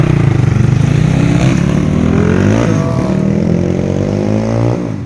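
A loud, close dirt bike engine buzzes and revs, pitch rising and falling in a continuous throaty drone.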